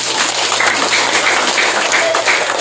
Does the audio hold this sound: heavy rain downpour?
no